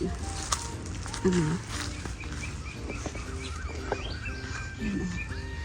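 Scattered bird chirps and short calls sound over a low outdoor rumble, brief tweets popping up here and there at moderate distance.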